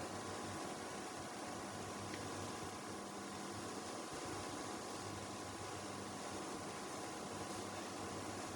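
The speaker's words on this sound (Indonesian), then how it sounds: "di sini untuk kedua kipas atau fan sudah berputar ya" Cooling fans on a 2000 W 24 V low-frequency inverter spin under load, giving a steady, close, broadband whir with a faint low hum. No voices over it.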